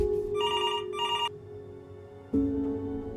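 An old-style telephone bell rings twice in a video game, two bright trilling bursts over a low droning ambience, then a deeper tone swells in as the ringing stops.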